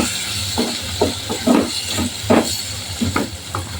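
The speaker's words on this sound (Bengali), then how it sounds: "এখন আমি টমেটো কুচি দিয়ে দিব" Chopped tomatoes hit a hot pan for a small mola fish curry, giving a steady hiss and sizzle with repeated bursts of stirring and scraping over the continuous frying noise.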